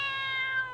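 A cat in the video game Zone of Enders gives a single short, clear, tonal meow, heard alone with a faint background hum.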